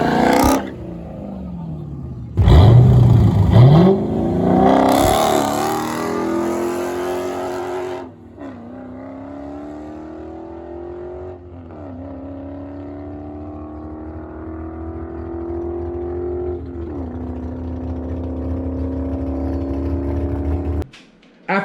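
A manual-transmission drag racing car launches and accelerates hard down the strip, its engine roaring loud and near, then climbing through several distinct gear shifts as it pulls away into the distance.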